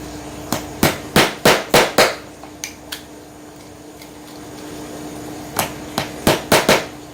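A cutter knife used in place of a chisel on cabinet wood while fitting a sliding door, making sharp tapping and knocking strikes in two quick bursts of about five, close and fairly loud, with a quiet pause between.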